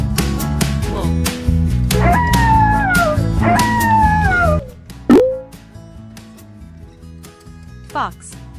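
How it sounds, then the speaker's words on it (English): A wolf howls in two long, gliding, wavering calls over a steady musical backing, followed by a brief splash-like plop and a short squeak. "Wolf."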